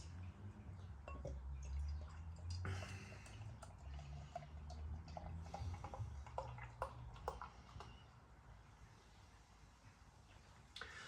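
Aldi London Porter, a jet black beer, is poured from a bottle into a Wensleydale Brewery glass. Quiet close gurgling, dripping and fizzing with scattered small taps of glass, fading toward the end.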